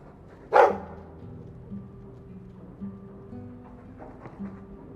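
A guard dog in the Dragon Age 2 video game gives a single sharp bark, then quieter low growls and murmurs follow beneath a faint steady game hum.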